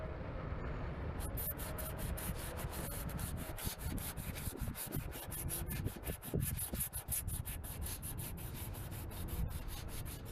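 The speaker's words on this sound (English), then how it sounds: "It really helps to have the tape on if you're going to sand this much." Indicator lens on an S10 being sanded with 400-grit sandpaper, lens edges taped off, a continuous fast rubbing scrub close to the surface with a steady rapid pulsing texture, a low rumble underneath throughout.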